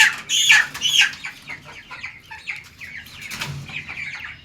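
Tiger-breed chickens at about thirty days old cluck and squawk in short bursts close by, with wings flapping now and then.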